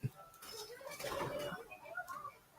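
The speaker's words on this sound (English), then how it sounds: "my birds are being noisy" Pet birds, apparently doves or pigeons, coo and chirp faintly in short soft calls in a quiet indoor room, with a low voice murmuring faintly in the background.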